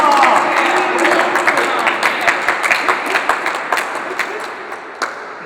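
A crowd breaks into dense applause that thins into scattered, sharp individual claps as it tapers off, with faint voices beneath.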